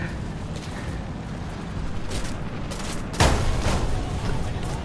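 A plane explodes in the War Thunder video game, a sudden loud boom cutting through ongoing rumbling gunfire and engine noise, followed by a lingering roar.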